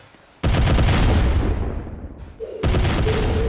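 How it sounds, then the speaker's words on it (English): Two loud, sudden booming blasts with roaring rumble, the first decaying over about two seconds before a second blast erupts, a Roblox game explosion effect. "let's touch it and it's gonna play the explosion sound"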